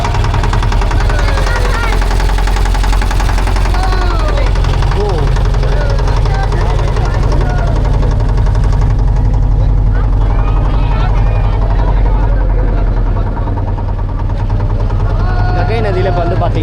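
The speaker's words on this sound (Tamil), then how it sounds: "மோட்டர் வந்து ஸ்டார்ட் ஆயிடுச்சு" A motorboat engine drones loud and constant during an evening boat ride on the Ganga river in Varanasi, with voices talking over the steady rumble.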